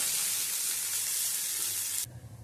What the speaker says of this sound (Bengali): আলুটা তুলে নেওয়ার পরে ওই তেলের মধ্যেই দিয়ে দিচ্ছি পেঁয়াজ কুচি